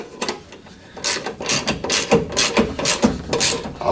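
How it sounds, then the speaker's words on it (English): A 1/2 inch ratchet clicks in repeated strokes, tightening the blade bolt on a Hyundai HYM510SPER electric key start roller lawn mower. The strokes sound close and loud, landing in a fairly regular sequence of bursts. "I'll tighten back down on the main bolt that holds the blade on, very firmly indeed with my 1/2" ratchet"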